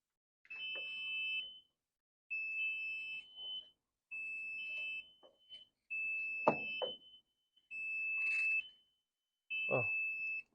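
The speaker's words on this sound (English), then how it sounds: "Now we'll give you a shutdown alarm." A loud electronic generator shutdown alarm beeps in repeated bursts of about a second each, with short gaps between them, while people talk faintly underneath.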